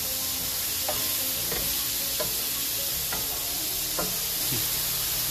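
Wild mushrooms and garden vegetables sizzle in a pan, a steady hiss broken by about half a dozen soft scraping stirs at a slow, irregular pace, close and without talk.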